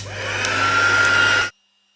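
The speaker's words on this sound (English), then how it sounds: "I'm going to bring my heat tool in. Because this is saturated with quite a lot of ink, I want to dry it off" Heat tool blowing hot air to dry ink-saturated cardstock before embossing, a loud, steady whirring hum lasting about a second and a half, then cutting off abruptly to silence.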